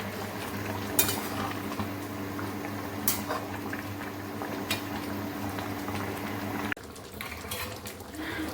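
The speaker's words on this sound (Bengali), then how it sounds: "তো এখন আগে জলটা ফোটার জন্য দিয়ে দিয়েছি" Water heating to a boil in a pot with cardamom, cinnamon, bay leaf, green chili and salt for rice, a low steady bubbling rumble with occasional sharp clinks of utensils nearby.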